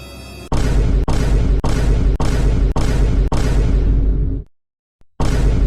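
Animated movie explosion of a villain's ship bursting into flames, a run of six heavy, booming blasts in quick succession, loud and full-bodied, then a brief silence before another blast erupts.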